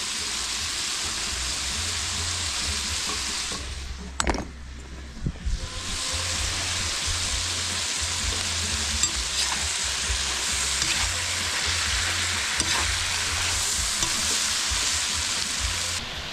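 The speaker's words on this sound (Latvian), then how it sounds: "Kad sīpoli mazliet apcepušies un savu sulu jau sāk atdot, pievienojam klāt arī burkāns." Onions and carrots frying together in oil for plov give a continuous dense sizzle, close and loud, broken early by a clatter and brief dip as more carrots go in, then steady hissing with occasional stirring scrapes.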